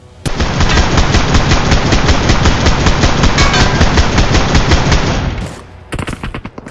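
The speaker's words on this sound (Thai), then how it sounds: "นี่น่าจะเป็นโอกาสดีที่ผมจะได้ยิงฟรี" Sustained automatic gunfire in the mobile battle-royale game PUBG Mobile, a loud rapid burst of shots lasting about five seconds, then a brief lull and a few more scattered shots.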